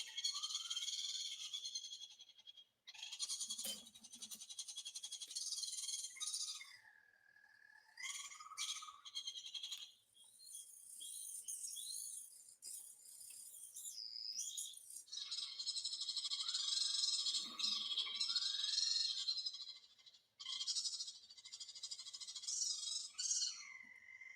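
Reconstructed Compsognathus dinosaur vocalization: high, bird-like chirps and warbling calls in irregular bursts that rise and fall, close and clear, with brief low grunts between them.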